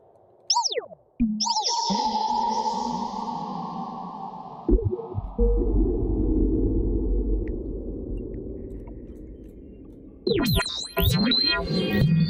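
Bright additive synthesizer tones swoop and sweep, with pitch bends and a long sustained buzzy chord, followed by rapid warbling notes at the end.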